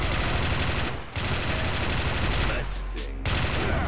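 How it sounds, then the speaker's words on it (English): A machine gun fires in sustained rapid bursts in the Men of War strategy game, loud and close, with only brief gaps between long rattling volleys. "machine gun firing"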